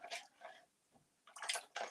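A paintbrush swishes and taps in a small water bucket, giving soft intermittent sloshes and drips in a few brief bursts, close and quiet, with a louder cluster of splashy rinsing near the end.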